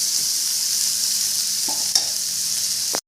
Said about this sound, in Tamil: இப்போ இந்த அளவுக்கு நல்லா வதங்கிச்சுங்க வெங்காயம் தக்காளி எல்லாம்.